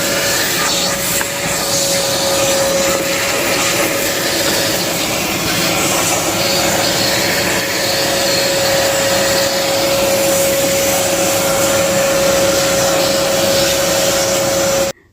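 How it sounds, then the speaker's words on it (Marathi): A vacuum cleaner runs loud and steady while cleaning kitchen window grills, a constant whining drone with a fixed tone that holds unbroken for about fifteen seconds before cutting off. "या व्हॅक्यूम क्लिनरचा आवाजच फार जास्त असतो"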